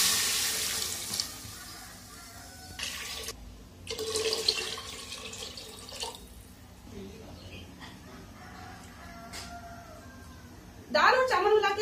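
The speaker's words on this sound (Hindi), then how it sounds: "अब इसमें हम पानी ऐड कर देते हैं।" Water pours into a pot of tomato and spice masala for moong or masoor dal khichdi, a soft splashing stream in short bursts while someone talks over it.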